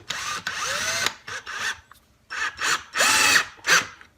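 A SnapFresh 20V cordless drill runs in a series of short, loud bursts, its motor whining and pitching down as screws are driven into a 2x4, with brief pauses between.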